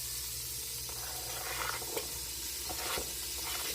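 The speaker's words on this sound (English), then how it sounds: "we are now starting to get a sizzle" Oil in a Dutch pot for homemade gravy gives a quiet, steady hiss and sizzle with a low hum beneath and a few faint pops.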